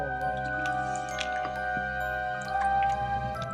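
Slime liquid poured from a bottle into a bowl gives soft, close drips and wet squishes over a steady tonal background hum.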